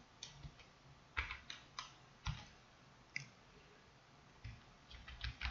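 Key presses on a computer keyboard typing text entries into a music software template, soft clicks arriving in small irregular bursts with pauses between them, quiet and alone.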